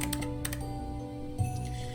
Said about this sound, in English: she heard the sound of someone typing in a neighboring office